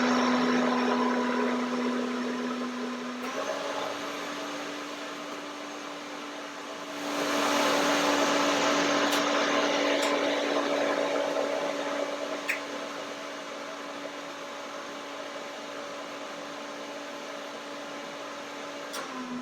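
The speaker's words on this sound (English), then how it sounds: "The blender sound very even." A blender whips cream for a white chocolate, blueberry, strawberry and apricot pie. The motor gives a steady, even whine that shifts pitch early on and surges louder for a few seconds partway through before settling back.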